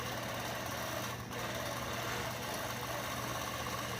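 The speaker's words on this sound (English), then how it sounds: "Just kind of lock those stitches in and then continue sewing" A sewing machine stitching fabric hums steadily at a quiet, even level with faint mechanical vibration and a short dip near the start.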